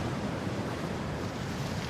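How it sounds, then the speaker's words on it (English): Ocean waves surge and break on the west coast of Ireland, a steady, loud wash of surf with wind buffeting the microphone throughout. "the west coast of Ireland gets some of the biggest waves in Europe"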